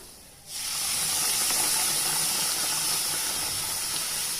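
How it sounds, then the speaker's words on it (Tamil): Water boils in a pan for ragi kichadi with a steady, close hiss of bubbling and steam that starts abruptly and holds constant. "தண்ணி பாருங்கள் கொஞ்சம் நல்லா கொதி வருது"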